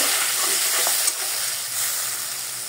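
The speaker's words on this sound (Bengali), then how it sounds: "মশলাটা ভালো করে কষাতে হবে।" Bengali-style masala for hilsa curry with new potatoes frying in a pan after a splash of water, giving a steady, close hiss and sizzle with faint stirring scrapes and no voices.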